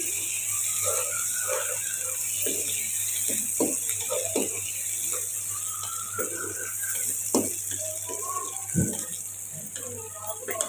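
Onions fry in a pan with a steady, close hiss, broken by soft irregular stirring scrapes and a low hum beneath.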